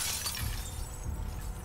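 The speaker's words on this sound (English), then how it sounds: "Yes, it was me breaking glass." Glass shattering in The Last of Us Part 2, a muffled crash with bright scattering debris at the start, fading under a low rumbling game background, distant and fairly quiet.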